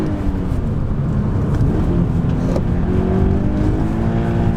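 A 2013 Toyota GT86 engine rumbles steadily with a throaty exhaust note, rising slightly in pitch as it revs, loud and close throughout.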